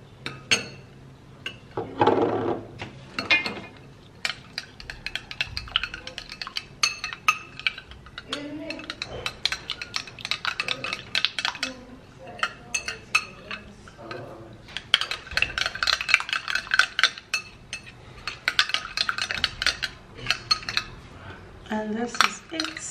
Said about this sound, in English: So I'm going to be putting in my cucumber juice